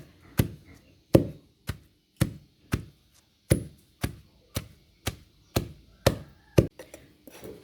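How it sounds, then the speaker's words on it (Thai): Washed fresh herbs for a traditional bone and tendon remedy are pounded in a mortar, about fourteen sharp, evenly spaced thuds close by with no talking. "ล้างให้สะอาดแล้วก็เอามาโขลกให้เข้ากันค่ะ"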